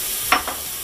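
Onion and potato sautéing in a pan, a steady close hiss of frying with a quick stir scrape breaking through briefly.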